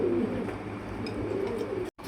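Fancy pigeons for sale coo steadily and close, a continuous soft murmur of several birds with no talk over it, ending in a sudden brief cut.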